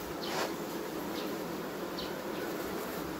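Bees hum continuously at a hive, a close and even buzzing, while a few single insects pass nearby and briefly rise above the mass of sound.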